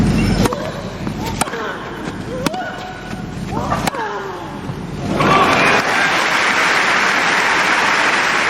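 At the 2018 Wimbledon final between Kerber and Williams, sharp racket strikes pop during a rally, then the crowd bursts into sustained cheering and applause while a commentator talks.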